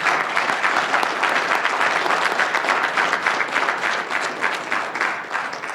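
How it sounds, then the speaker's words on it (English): A crowd at the Brookhaven Lab Research SLAM competition applauds its winners with steady, full clapping at an even loudness throughout, with no voices over it. "Let's have another round of applause for our winners."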